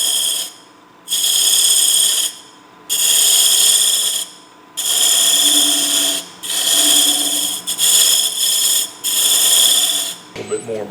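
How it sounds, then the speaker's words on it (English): A skew chisel scrapes wood on a lathe while turning a doughnut cutter, giving repeated bursts of harsh hissing scraping, about seven passes separated by short pauses, close and loud. "using the skew here to scrape off the edge"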